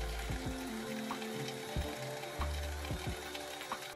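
A kitchen blender whirs as it mixes milk into a thick condensed-milk mixture, a steady motor drone with shifting pitch and a few knocking bumps, close and continuous with no talking.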